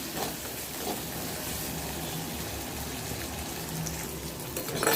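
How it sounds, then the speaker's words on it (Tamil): Garlic sautés in a pan as a steady, soft sizzle that keeps an even level throughout, with no voices over it. "பூண்டும் சேர்த்து நல்லா வதக்கி கொடுக்கலாம் பூண்டு நல்லா வதங்கட்டும்"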